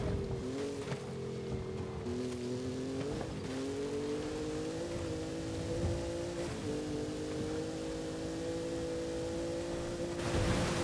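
A car engine in Forza Horizon 5's online mode drones and revs, its pitch rising and dipping slightly over a steady, washy background roar, with no speech.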